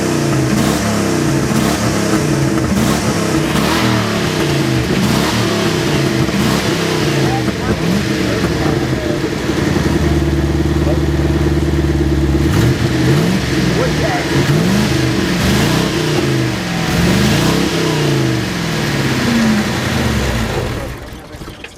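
A truck engine running on wood gas revs up and down repeatedly, loud and close, with a steady idle between rising and falling revs and voices talking over it.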